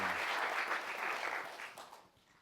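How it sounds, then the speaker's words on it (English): Audience applause at a finance pitch event after the SayPay startup pitch: a dense, steady crowd clapping that holds strong, then thins and fades out over the last half second. "Okay, round of applause,"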